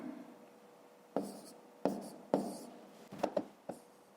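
A pen scratches across paper in short separate strokes, about six quick, close, quiet scribbles with small pauses between them during a math lesson.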